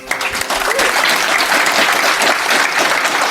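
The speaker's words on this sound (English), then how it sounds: "how about a big round of applause for David and Maddy?" An audience at a conference panel discussion breaks into applause, steady close-up clapping that swells quickly and stays full for a few seconds.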